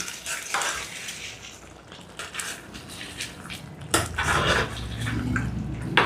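Taro root curry (chamadumpa pulusu) being stirred in a pot with salt and coriander just added, giving scraping and clinking utensil-on-pot sounds and soft wet stirring, fairly close, with no talking.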